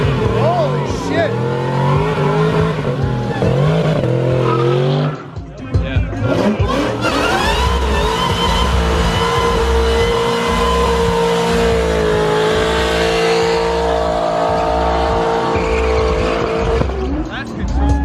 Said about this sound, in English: World's slowest burnout!